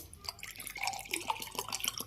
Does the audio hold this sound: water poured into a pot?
yes